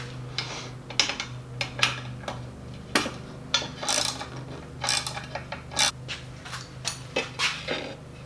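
Ratchet clicking in short irregular bursts while snugging the bolts of an Outback Motortek top rack on a 2021 Yamaha Tenere, close and moderately loud, with intermittent mechanical clicks and ticks over a low steady hum.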